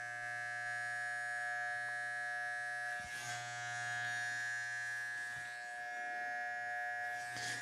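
Electric hair clipper buzzing steadily and close during a haircut with a hard side part and medium fade, a constant high electric whine with brief rustling touches against the neck, no talk.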